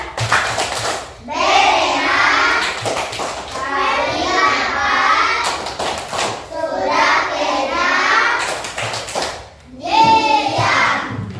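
Schoolchildren in a classroom do the tepuk ikat clapping chant, groups of quick rhythmic hand claps between loud unison chanting, close and energetic, repeating over several rounds.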